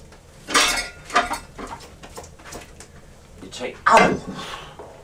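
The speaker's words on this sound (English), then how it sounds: "Now you take your plate, like this, and you dish it out onto the plate." Food is dished out from a pot onto a plate, giving a few close clinks and scrapes of utensil on dishware, with a voice talking between them.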